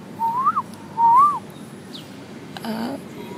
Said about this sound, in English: I think the general term for those birds are myna.